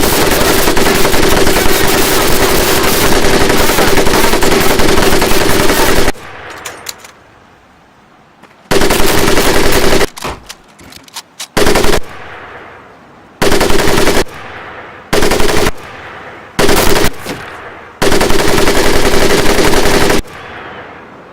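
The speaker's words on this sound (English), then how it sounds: "Now here we have my personal favorite, the M1919A430 caliber machine gun." An M1919A4 .30 caliber machine gun fires in a Medal of Honor Pacific Assault basic training range, loud sustained bursts of rapid gunfire broken by pauses, with a long opening burst and several shorter ones.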